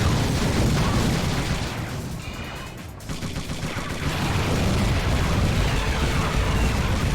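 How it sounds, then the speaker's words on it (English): A missile strikes a dropped proximity mine in Twisted Metal 4 with a roaring blast, a dense rumbling burst that dips for a moment then swells again, loud and continuous throughout. "He dropped the proximity mine, and I immediately shot it with a missile"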